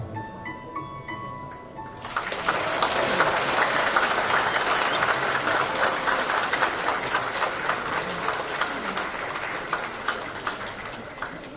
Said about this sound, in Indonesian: Kembali kita sambut dengan tepuk tangan yang meriah